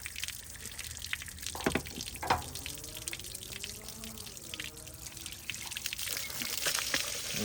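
Water splashes and gushes from an RV water heater drain, with dripping and trickling over a low mechanical hum, growing steadier toward the end.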